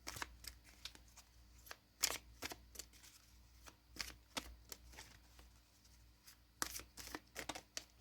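Tarot cards are shuffled and pulled in a quiet room, making a quick run of soft riffling flutters and sharp card snaps in irregular bursts, close and fairly faint.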